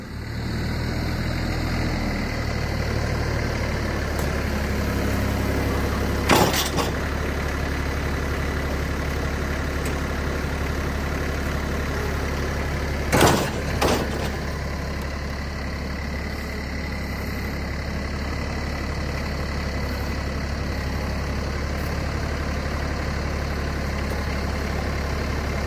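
A tractor engine idles steadily and close by throughout, a low constant drone, while a tote is loaded onto a trailer with pallet forks; two brief knocks or clanks stand out partway through.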